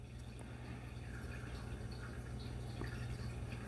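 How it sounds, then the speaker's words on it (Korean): Water trickles steadily from an aquarium in a living room, a faint continuous babble of small drips and gurgles under a low hum, with no talking. "거실에 어항이 있어요. 어항이 졸졸졸졸 물 소리가 나는 어항이"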